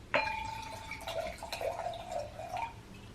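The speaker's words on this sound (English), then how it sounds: "So it does have a little bit of fizz in it when I'm pouring it." Fizzy Aldi wine poured into a glass, with a sharp splash at the start followed by bubbling, trickling liquid sounds and small fizzy pops, close and fairly quiet.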